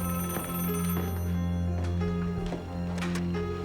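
A telephone rings with a loud, repeated electronic bell tone, close and continuous, in a police station call scene. No voices are heard.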